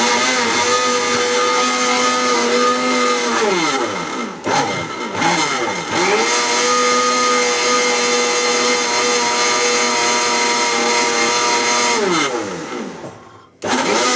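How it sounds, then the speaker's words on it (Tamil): Close, loud electric blender grinding lemonade with mint leaves, a steady high whine that dips twice as the motor slows and restarts, then runs on before cutting off at the end. "நான் ஒரு 2 புதினா இலை போட்டு அரைக்க போகிறேன்"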